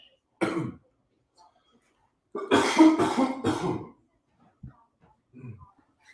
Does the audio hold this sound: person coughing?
yes